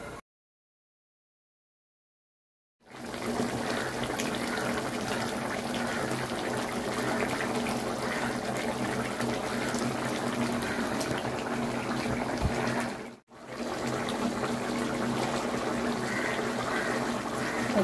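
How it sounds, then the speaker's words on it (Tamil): Steady bubbling and simmering of milk with milk powder boiling in a pot, continuous and close, with a brief pause near the end before it resumes. "பால் தூள் எல்லாம் நல்லா கொதிக்கட்டும்"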